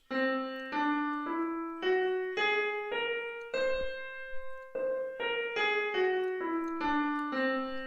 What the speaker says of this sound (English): A whole tone scale is very useful in space movies and space music.